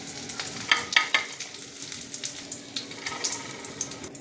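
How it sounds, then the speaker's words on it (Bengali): Chicken pieces fry in oil in a pan over a low flame, a steady close sizzle broken by sharp crackles and stirring clatter. "স্লো আগুনে আমি 3 মিনিট এটা ভেজে নিয়েছি"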